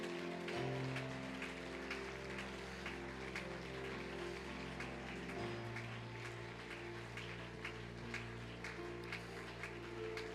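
Congregation applause fills a church revival service, a steady wash of many hands clapping at even loudness for the whole stretch, with sustained keyboard or organ tones ringing underneath.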